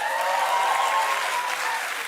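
A studio audience at a daytime talk show applauds steadily, a dense, even wash of clapping from the start to the end.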